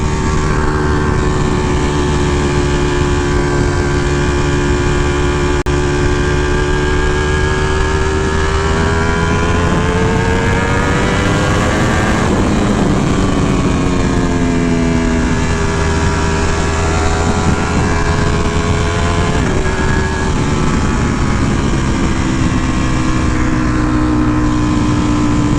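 A 2018 Ducati Panigale V4 S with a full Akrapovic exhaust rides in race mode, its engine droning loud and close with rising and falling pitch as it accelerates and shifts, under heavy wind rush.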